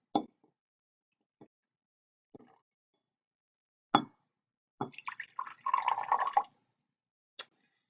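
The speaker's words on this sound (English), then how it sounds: "I'm going to put water in each of these." Tap water is poured into a row of cups, heard as several short splashes and drips and then a longer, louder filling stream, with brief pauses and quiet between them.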